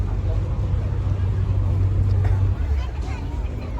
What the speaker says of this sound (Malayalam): ഇപ്പോൾ ഇതാ നമ്മളെ ബോട്ട് വന്നിട്ട് ചെറുതായിട്ട് മൂവ് ചെയ്ത് തുടങ്ങിയിട്ടുണ്ട്